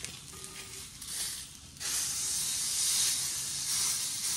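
Steak sears in a hot pan just after being flipped, a steady hiss that jumps louder partway through and keeps sizzling evenly to the end.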